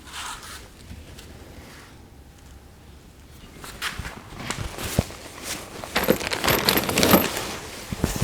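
Metal wheel install bolts for a Ranger Raptor beadlock wheel being handled, close clinks and rattles of the bolts that grow busier and louder toward the end, over soft rustling.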